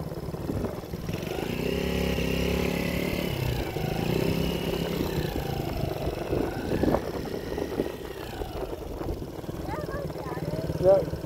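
Small-engine drone of a Yamaha YFZ50 youth quad ATV ridden solo outdoors, running steadily at close range and rising near the end, with people talking over it.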